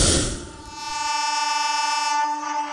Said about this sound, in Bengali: যথাসময়ে ট্রেন ছেড়ে দিল হাওড়া থেকে